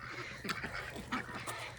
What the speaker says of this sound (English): The happy chicken.